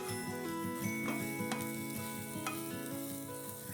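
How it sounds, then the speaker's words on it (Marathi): Chopped onion fries in a hot pan for misal, giving a steady, dense sizzle with light stirring clinks. The sound is close and continuous, with no talk over it. "पॅन तापलाय आपला चांगला, तर आपण हा कांदा आता त्याच्यावर फ्राय करून घेऊया."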